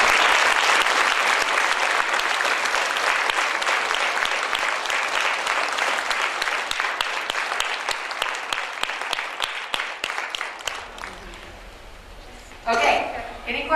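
A school audience gives a big round of applause for a visiting animal and a legally blind girl, dense and loud clapping that thins out and fades over several seconds before a brief voice at the end.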